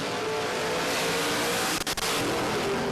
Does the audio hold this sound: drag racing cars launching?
yes